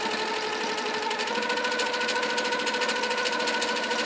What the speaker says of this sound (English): when we're free motion quilting like this